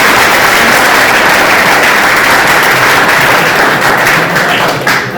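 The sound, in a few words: audience applause for a lecturer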